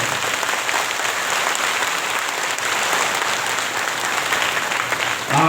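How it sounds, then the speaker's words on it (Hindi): Dense, sustained applause from a large audience at a spiritual gathering in Bastar, steady and loud throughout with no break. "एक बार सभी एक दूसरे के उत्साहवर्धन में तालियों की बजाएं।"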